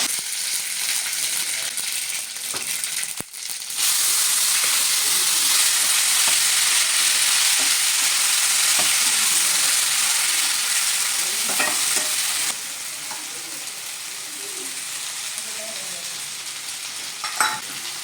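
Ingredients dropped into hot oil for a tempering, set off by a sudden bright, loud hiss that holds steady, then settles lower with light stirring scrapes near the end.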